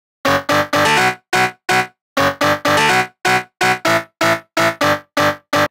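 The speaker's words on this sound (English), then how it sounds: "there is a preset in this Rave generator that is also a sample, and it's called Party Children, and it sounds like this" Party Children sample preset from the Rave Generator synth plugin, loud choppy stabs in a fast rhythmic pattern of short bursts with brief gaps, dense and bright, with no voices.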